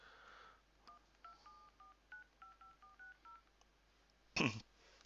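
A phone number is keyed in as a quick series of short electronic dialing tones, about a dozen beeps, followed by a brief louder burst.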